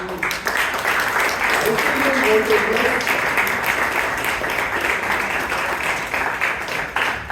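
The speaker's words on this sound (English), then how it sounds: "Can we have a round of applause for those two?" A room of members claps at a Toastmasters club meeting in Bangalore, a loud continuous round of applause running throughout, with some voices mixed in.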